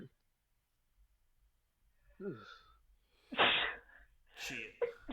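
A person sneezes close by in a quiet room, a few short, sharp bursts of breath and voice spread over several seconds, with a brief spoken word among them.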